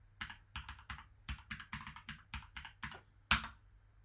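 A password is typed on a computer keyboard in short bursts of crisp, close keystrokes separated by brief pauses, ending with one louder, sharper key press like a final enter, with no talking.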